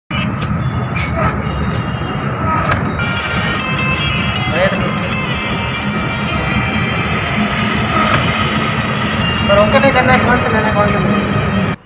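A train rumbles steadily through Jodhpur railway station, with loud continuous rolling and wheel noise, metallic squeals and clanks over a busy platform where people talk in the background.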